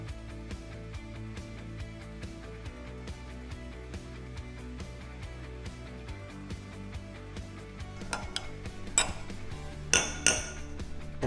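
Milk and white vinegar are mixed in glassware, with faint scattered clinks and taps of glass under a soft music bed, then a few louder, sharper clinks near the end; nobody speaks.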